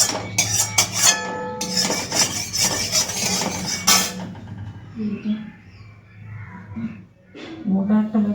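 A freshly washed wok (karai) is set down and handled on a home stove, with a few seconds of loud, clattering metal knocks and scrapes, then quieter shuffling and occasional talk.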